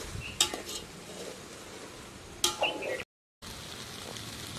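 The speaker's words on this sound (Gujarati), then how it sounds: "હળવે હળવે આથી મિક્સ કરી દઈશું" Boiled rice being gently mixed in a pan for Gujarati angara rice, with soft stirring scrapes and two sharp utensil clinks against the pan over a quiet kitchen background, cut by a short silent gap.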